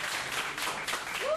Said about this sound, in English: I don't know who you're clapping for